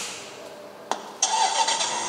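A battery-operated ride-on toy digger switching on with a sharp click, followed a moment later by a bright electronic startup sound effect that plays steadily and close.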